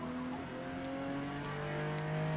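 A Ferrari Dino races a qualifying lap at Indianapolis in Forza Motorsport, its engine holding a steady, sustained drone with pitch slowly shifting as it pulls through the gears, loud and continuous.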